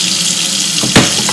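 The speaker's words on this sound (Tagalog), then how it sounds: "butangan dai nato gamay tubig dai." Water runs loudly into a cooking dish with a steady rushing hiss, and a brief splash near the end as a little more is poured in.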